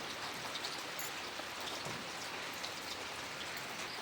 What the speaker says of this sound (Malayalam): അത് മഴയായതുകൊണ്ട് അങ്ങോട്ട് പോകാൻ പറ്റുന്നില്ല അല്ലേ ഭയങ്കര മഴയാണ്